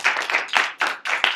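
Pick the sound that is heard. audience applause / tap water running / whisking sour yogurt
audience applause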